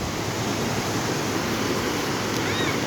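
Waterfall in Perandapalli forest, a steady, dense roar of falling water that stays loud and unbroken throughout, with no voices over it.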